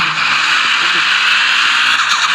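A Toyota Land Cruiser races and skids in the mobile game Car Parking, giving a loud, steady tire screech and engine roar that runs unbroken for the whole stretch.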